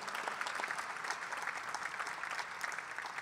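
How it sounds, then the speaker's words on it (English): Steady, dense applause from an audience at a college introductory press conference, continuous and even for the whole stretch with no voices above it. "let me give that a round of applause, absolutely"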